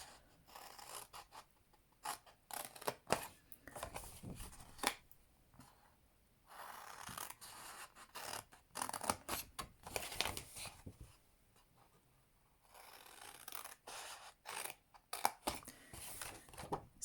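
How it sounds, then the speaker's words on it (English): Scissors snip through patterned designer paper along score lines for an Easter treat box, a run of short crisp cuts in bursts with brief pauses, close and fairly quiet, no talking. "And then just from here, cut up those next three score lines."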